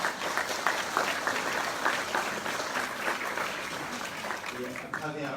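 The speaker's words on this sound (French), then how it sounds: "On peut l'applaudir." An audience at an association's general assembly in Les Sables d'Olonne applauds the mayor, with steady, fairly dense clapping throughout and a voice starting to speak near the end.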